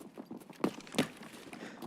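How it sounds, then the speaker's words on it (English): Soft footsteps of many players approaching in a video game, a faint shuffling patter with two slightly louder thuds, heard alone. "Holy, that is a lot of footsteps."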